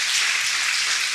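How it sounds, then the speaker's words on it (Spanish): A church congregation claps together in dense, steady applause that fills the room, with no voice rising above it. "Dale un aplauso"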